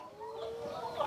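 Tiger chickens on a farm cluck in a brief, close burst of overlapping calls.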